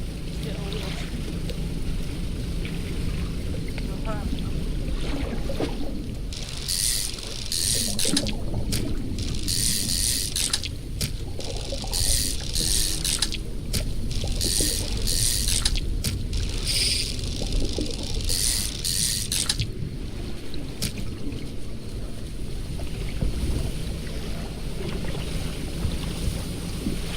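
A fishing boat in the video game Dredge moves through water with a continuous low wash and wind rush, and intermittent bright splashing bursts occur through the middle stretch.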